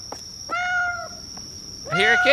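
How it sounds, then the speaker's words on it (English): A cat meowing in the Chilla's Art horror game The Bathhouse, a short tonal mew followed by a louder wavering meow near the end over a steady high ambient whine. "I hear a kitty cat!"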